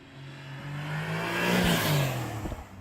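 A 992 Porsche 911 Turbo S in Sport Plus mode revs up on winding Spanish country roads, its engine note climbing in pitch over a couple of seconds before dropping off, heard from inside the car.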